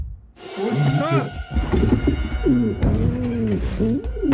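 Soft, throaty pigeon coos roll and warble close by in repeated bursts, with some low murmuring mixed in.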